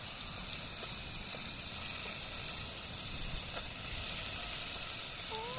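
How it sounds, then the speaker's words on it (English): Crayfish and fish frying in a pan give a steady, close, even sizzle with faint crackles. The sizzle continues unbroken throughout and nobody talks over it. "Crayfish gondi and fish we frying."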